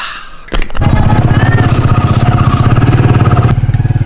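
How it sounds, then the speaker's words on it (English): A motorcycle trike engine putters steadily and close by while riding, a brief clatter starting it off before the pulsing drone settles in and holds, with wind rushing over it. "Out here in a trike, going to the market right now."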